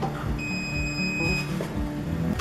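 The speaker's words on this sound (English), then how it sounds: "Now it's beeping" An egg incubator holding Ayam Cemani eggs gives steady high electronic beeping tones for about a second, warning of too-low temperature, over background room noise and low voices.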